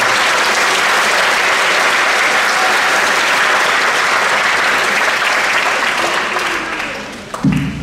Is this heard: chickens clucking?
no